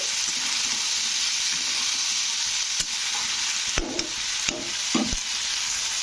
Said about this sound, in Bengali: এবারে দিয়ে দেব বেগুন তো বেগুনগুলো দিয়ে নাড়তে হবে